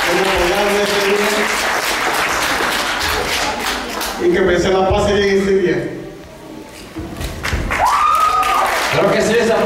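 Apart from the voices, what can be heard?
applause at quinceañera party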